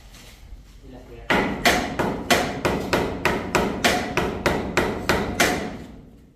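Hammer blows on a house under construction, about a dozen sharp, evenly spaced strikes at close range, preceded by a brief moment of quieter background.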